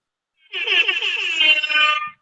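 An alarm sound effect plays as a single loud electronic buzzing tone lasting about a second and a half, then cuts off abruptly.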